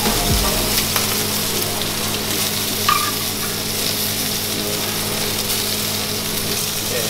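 A steak fries in a pan with a steady, dense sizzle that carries on evenly and close up, broken only by a small clink partway through.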